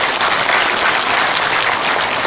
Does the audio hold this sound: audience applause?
yes